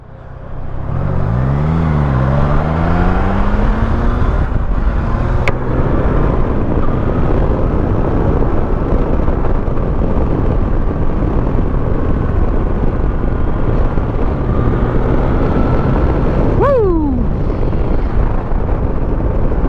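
A Triumph Tiger 660 motorcycle is ridden on a demo day. Its engine drones loud and close for the whole stretch with wind rush, rising and falling through several rev sweeps near the start and again near the end.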